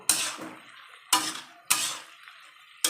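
A utensil stirs Malabar spinach with crushed garlic and green chilli in a pot, making three crisp clinks against the pot's side at an uneven pace with soft rustling between them.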